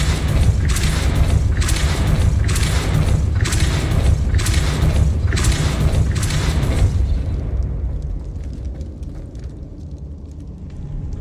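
In Hogwarts Legacy, a Depulso spell impact lands amid a run of six or seven heavy rhythmic booming thuds in quick succession, loud and close, before fading into a low rumble.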